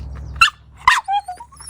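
Two short, sharp barks ring out close and loud, followed by a rising series of high, excited whines and yips from the dogs.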